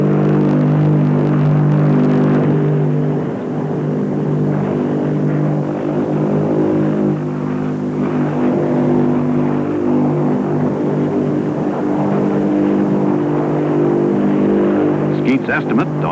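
A propeller-driven XFY-1 vertical takeoff aircraft hangs nose-up on its props under power, producing a sustained, heavy droning engine hum with a steady harmonic buzz that stays loud and even throughout, with a narrator's voice running over it.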